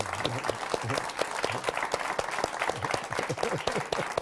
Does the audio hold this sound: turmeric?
no